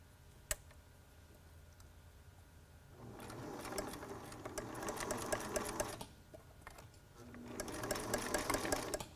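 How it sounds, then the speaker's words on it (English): A sewing machine stitches elastic onto a T-shirt face mask in two runs of rapid, steady clatter separated by a pause, close by, with a sharp click at the start. "so now we've just sewn the last of the elastic"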